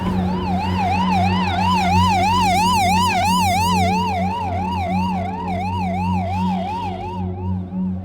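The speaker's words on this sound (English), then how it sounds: "We've just been told that the ambulance is on its way back to this area." A wailing ambulance siren on a street in Somalia sweeps up and down in a steady, fast rhythm, loud and close, with a low engine drone underneath throughout.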